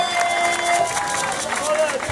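A church congregation in Oyo claps together in a continuous dense burst of applause, with a voice speaking over the clapping throughout.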